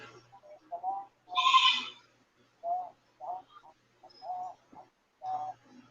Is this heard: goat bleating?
yes